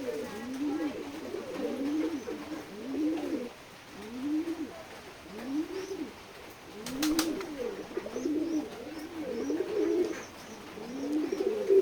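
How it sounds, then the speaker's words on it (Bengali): Pigeons at a village pigeon farm in Keshabpur, Jessore, perched up high after feeding, cooing in a steady repeated rhythm of low rolling calls, close and moderately loud, with a brief rustle midway. "খাওয়ার পরে এরা উপরে উঠে গেছে। সবগুলো দেখতে পাচ্ছেন উপরে আছে।"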